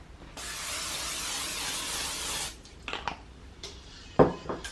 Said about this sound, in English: I'm just gonna spray the pan just so nothing sticks.